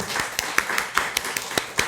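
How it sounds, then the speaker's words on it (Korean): Congregation clapping during a Sunday church service to bless the children, a steady run of distinct claps at a brisk regular rhythm, fairly close and moderately loud, with no talk over it. "우리 자녀들을 축복하면서 하며 격려하며 박수 한번 해주겠습니다"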